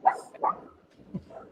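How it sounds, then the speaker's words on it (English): A dog barks at something outside in a quiet street: a few short, muffled barks spaced over a second and a half, moderately distant and fairly faint, with no talk. "My dog is barking at a leaf floating across the street."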